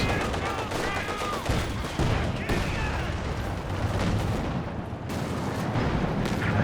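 Heavy mortar fire from the Company of Heroes 2 video game comes as dense, continuous rumbling explosions with overlapping blasts. A loud, close barrage fills the whole stretch.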